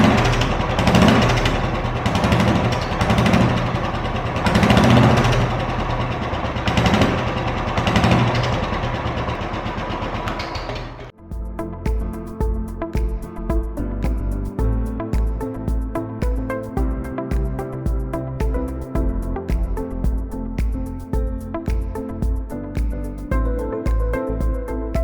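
A Royal Enfield Classic 350 with a SCUD barrel exhaust and dB killer fitted roars through several loud throttle blips, then drops to a close, steady thumping idle.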